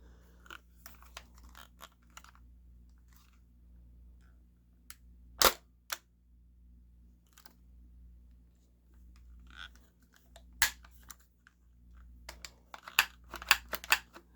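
Metallic clicks and clacks from handling a KWC full metal Mini UZI CO2 airgun, with a stiff selector switch and bolt, scattered sharp snaps and small rattles spread irregularly over a quiet background.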